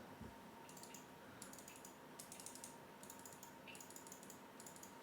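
Bursts of keyboard typing, quick clicky keystrokes in clusters separated by short pauses, over a steady low room hum, as picked up by an Elgato Wave 3 USB microphone.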